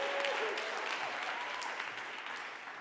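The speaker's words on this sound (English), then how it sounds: "give a huge round of applause for our amazing scholars" An indoor audience claps steadily at a school ribbon-cutting ceremony, with dense, lively applause that holds for about three seconds and fades slightly near the end.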